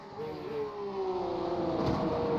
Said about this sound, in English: Love the sound of those engines, don't you?